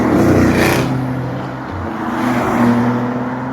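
A Mercedes-AMG GT sports car sweeps past outdoors, its engine note loud and close at first, then easing and swelling again as it goes by, with a steady whir throughout.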